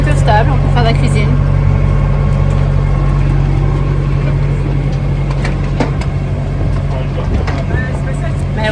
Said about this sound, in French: on est au moteur, on est en train de rouler au moteur